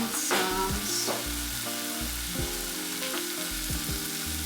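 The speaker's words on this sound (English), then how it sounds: "So we're gonna cook the tomato like it should be mushy, right?" Tomato with turmeric, chili powder and salt cooking in a pan, a soft continuous sizzle with faint tonal hum and a few quiet stirring touches, no talking.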